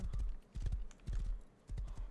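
A horse's hooves clip-clop in the game Rust, loud close hoofbeats arriving in short bursts of a few strikes separated by brief pauses.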